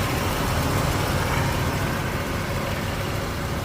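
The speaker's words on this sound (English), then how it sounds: "I got idling too high right now." 1993 Nissan Pathfinder XE V6 engine idling too high, a steady, loud, even drone with no changes in pitch and no talk.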